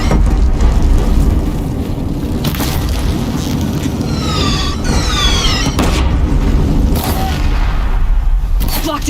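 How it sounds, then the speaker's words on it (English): Deathbringer machines in Horizon Zero Dawn fire heavy, continuous barrages at a bridge, a dense rumbling roar of booms and blasts throughout, with brief higher whistling streaks in the middle. "Deathbringers keep firing, this bridge will go!"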